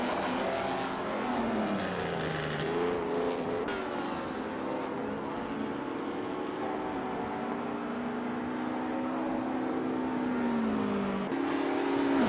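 1950s Formula One race cars scream around Le Mans in a racing video game, several engines droning and shifting pitch as they pass, loud and continuous with rising and falling tones over about twelve seconds, no voices.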